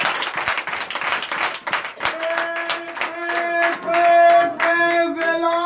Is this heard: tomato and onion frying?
no